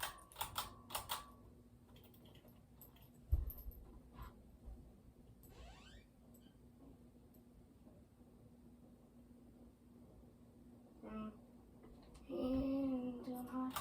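Harbor Breeze Barnstaple Bay 52-inch ceiling fan running on medium, a steady low hum with a constant tone, joined by faint clicks, a brief thump and some soft background noise, with no one speaking.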